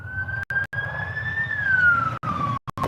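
A speeding police car passes with its siren wailing, loud and close, the tone rising and then falling away as it goes by, over a low traffic rumble with a few abrupt cuts.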